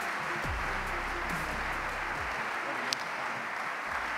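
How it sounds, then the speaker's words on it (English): Audience applause at a Notre Dame football awards banquet, a steady wash of clapping from a large room with a low murmur underneath. "Round of applause."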